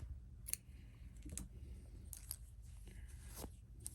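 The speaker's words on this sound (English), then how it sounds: "So I'm going to cut the yarn." Scissors snip through yarn after finishing a crochet granny square, giving a few faint, crisp cuts and clicks close by in a quiet room.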